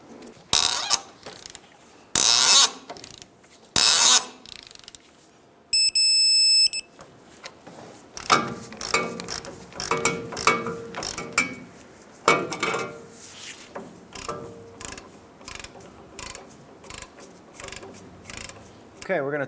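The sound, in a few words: torque wrench tightening F-150 inner tie rod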